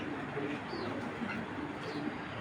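Racing pigeons coo softly in a loft, a faint low murmur of overlapping calls beneath quiet background noise.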